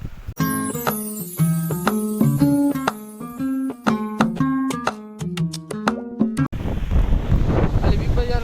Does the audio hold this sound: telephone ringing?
no